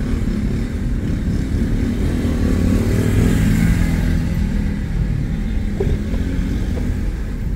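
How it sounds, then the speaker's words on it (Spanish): Busy 7 a.m. rush-hour street traffic in Guatemala City, with motorcycles and cars droning and revving continuously, a dense, loud, steady roar of passing engines with no voices. "hay demasiado ruido por el tráfico"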